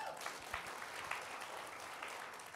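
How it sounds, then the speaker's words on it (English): Applause from the audience at an auto sales seminar, a short burst of many hands clapping, quite faint and distant with a thin, even texture and no talk over it. "give yourself a big loud applause."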